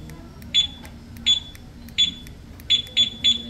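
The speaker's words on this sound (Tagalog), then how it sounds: "maririnig niyo yung double beep" Short, high-pitched electronic beeps chirp several times from the alarm on a Suzuki Smash 115 motorcycle, a couple of them in quick double beeps near the end, clear over faint background noise.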